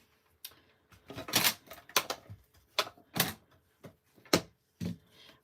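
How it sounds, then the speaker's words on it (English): A die cutting machine runs for a papercraft stack-and-cut project, giving a series of sharp clacks and whirring bursts in an irregular rhythm, close and fairly loud against a quiet room. "now we need our die cutting machine"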